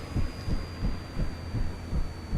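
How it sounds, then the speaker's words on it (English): Mi-8MTV2 Hip helicopter in DCS winding down, a deep rhythmic rotor thump at roughly two beats per second under a steady high turbine whine, close and alone. "Start shutting down the turbines."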